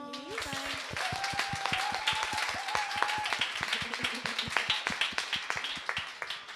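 A small audience at a live panel launch event in East London claps in sharp, distinct, fairly rhythmic strokes. A voice is heard briefly at the start, and the clapping carries on steadily.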